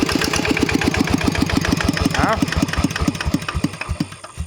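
Kubota ET80 farm tractor with an elephant-frame chassis running close by, its single-cylinder diesel knocking in a steady, fast, loud rhythm that slows and fades slightly toward the end.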